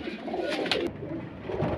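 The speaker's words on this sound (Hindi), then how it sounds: "ये कुछ नीचे भी हैं कबूतर" Highflyer pigeons on a rooftop in Lahore give soft, low, throaty coos that overlap in a continuous murmur, close by, with a few brief sharper sounds mixed in.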